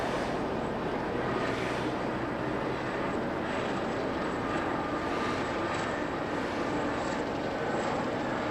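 Steady broadband roar of an aircraft moving along the runway at Okinawa airport, a continuous engine rumble and hiss holding level throughout with no voices.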